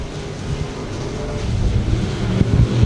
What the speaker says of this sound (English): Stahlbaumer and Shaw drag race down to 3.